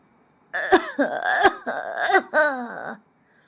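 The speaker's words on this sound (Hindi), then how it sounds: "पिताजी खांस रहे थे" An elderly man coughs close by in a few harsh bursts, with strained, groaning voiced breaths between them, in an animated story.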